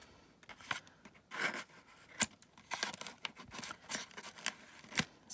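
A paper envelope being torn open by hand nearby, with quiet irregular ripping and crinkling over several seconds.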